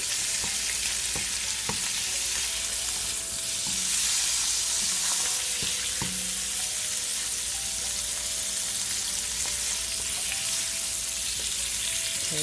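Pad Thai cooks in a pan with a steady, loud, close sizzle throughout, punctuated by occasional clicks and scrapes of stirring, no voices.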